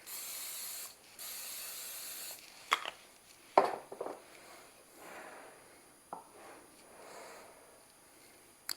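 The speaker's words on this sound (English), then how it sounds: "I'm going to give it a spray." Two short hissing bursts of cooking spray, close and fairly loud, followed by faint clicks and handling noises.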